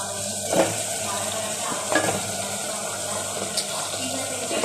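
Tomatoes and drumstick pieces fry in a pan for a tamarind mango curry, giving a steady sizzle with a few brief clatters of stirring or pieces dropping in, with no talk.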